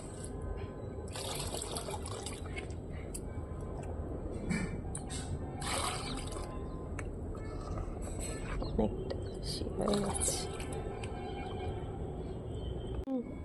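Water is poured and drained out of a small lotus tub, a steady close splashing and trickling that runs throughout with a few louder spills, while someone talks over it.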